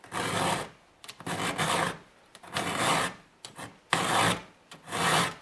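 Chainsaw chain teeth filed by hand with a file, close and loud: five or six distinct rasping strokes in a steady back-and-forth rhythm with short pauses between, no talking.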